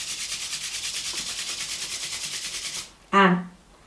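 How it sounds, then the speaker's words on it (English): Palms rubbed briskly together during a yoga session, a steady hissing friction lasting about three seconds, followed by a brief voiced sound. "Rub your palms"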